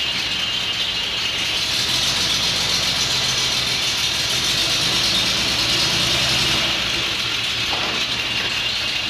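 An old truck fitted with a relay drive backing up, giving a loud, steady rattling engine drone with a broad hiss, continuous and close for the whole stretch, no voices.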